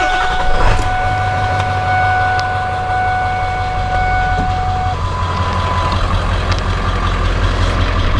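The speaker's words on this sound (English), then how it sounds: "Now, start your truck." A Ford truck with its security system bypassed runs after starting, a low engine rumble steady throughout, with faint tonal chimes overhead and an occasional knock.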